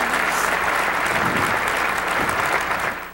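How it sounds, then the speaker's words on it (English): A dinner audience in a banquet hall gives a loud, dense round of applause for departing ambassadors Paul and Heather, steady clapping from many hands that starts to fade at the very end. "How about a round of applause, our outgoing ambassadors,"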